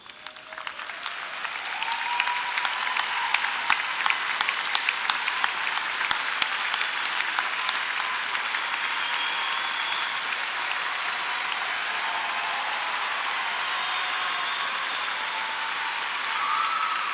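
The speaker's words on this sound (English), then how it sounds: "may we give them all a well-deserved round of applause" A graduation audience at a high school ceremony gives a long, steady round of applause for standing parents and guardians, dense and even throughout, swelling after the first two seconds and carrying on alone without speech.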